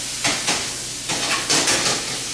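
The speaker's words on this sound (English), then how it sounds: "Now you can hear them sizzling." Brussels sprouts sizzling in a pan as the last of their cooking water evaporates, a steady close frying hiss that swells in several short bursts of spattering.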